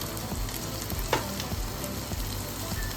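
Kashmiri red chili, turmeric, coriander-cumin powder, chole garam masala and split green chilies frying in hot oil in a pan, giving a steady close sizzle with light stirring scrapes and no talk.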